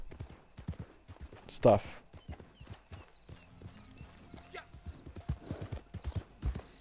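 Horse hooves clip-clopping in the video game Red Dead Online, a steady close trot of repeated hoofbeats under ongoing talk, with a brief loud burst partway through.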